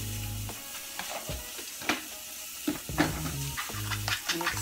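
Seasoned breakfast jambalaya ingredients, with black pepper and salt, are stirred in a sizzling pan, giving a steady frying hiss broken by scraping utensil strokes up close.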